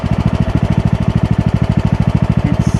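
Old lawnmower engine converted into a seed and fertilizer spreader runs steadily nearby, a loud rapid chugging pulse with even rhythm throughout.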